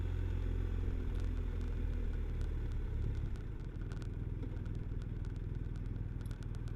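A 2020 BMW R1250RS engine runs steadily while riding around Greater Austin, a continuous low rumble with faint clattering that drops slightly in loudness midway and carries on without speech.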